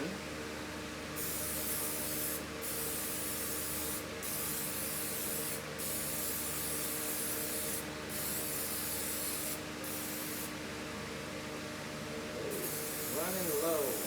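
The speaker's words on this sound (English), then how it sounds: "I'm going to spray this Bundt pan." Steady hissing of cooking spray onto a Bundt pan runs for several seconds, broken by short pauses between bursts, close by, ending with some handling noise.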